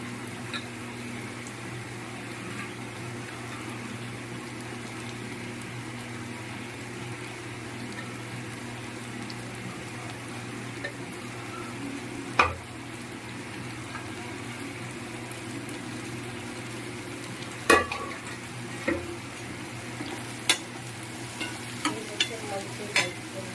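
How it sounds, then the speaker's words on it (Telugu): Prawns and onions fry in a pan with a steady, soft sizzle throughout, broken by a few sharp clicks and scrapes of stirring toward the end. "సో ఆనియన్స్ కొంచెం ఫ్రై అయిన తర్వాత ఈ ప్రాన్స్ దీంట్లో వేసేసుకోండి."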